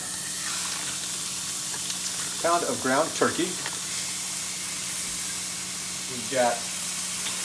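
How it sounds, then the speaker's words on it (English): Ground turkey sizzles in a hot pan as lasagna is prepared, a steady soft hiss running throughout beneath a person talking. "the pan's already hot, so you'll probably hear it sizzle as soon as I put it in there."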